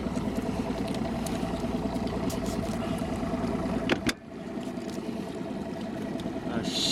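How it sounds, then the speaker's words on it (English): A boat engine idles steadily near a boat ramp with a low, even rumble, briefly interrupted by a knock and a dip before the idle continues. "We're gonna just idle by the boat ramp and see what it looks like."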